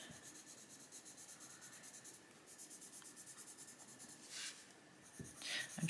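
Colouring pencil shading sand on paper, a faint, steady scratchy rubbing in short repeated strokes, close and quiet, with no voices.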